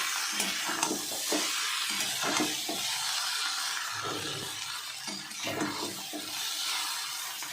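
Chow mein noodles tossed and stirred in a wok, a continuous close scraping hiss broken by rhythmic spatula strokes roughly every second, with no talking.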